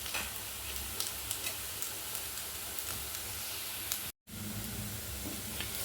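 Garlic and crushed ginger sizzle in a pan with beef for a Kerala-style pepper beef roast: a steady, close frying hiss with small crackles and occasional stirring scrapes, briefly cutting out before resuming.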